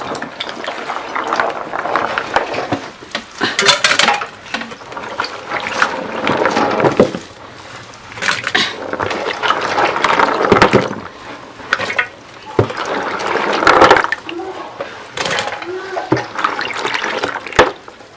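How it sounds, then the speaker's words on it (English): Cooking ingredients, including shrimp and spices, are washed by hand in water outdoors in a village, with close, continuous splashing, swishing and sloshing in irregular bursts and occasional knocks of a container, with no talk. "I think now I have to wash my ingredients"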